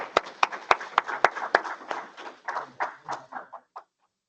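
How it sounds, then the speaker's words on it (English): A small group of people at a meeting claps in a short round of applause, a dozen or so sharp, uneven claps that thin out and stop after about four seconds. "we'll give a round of applause."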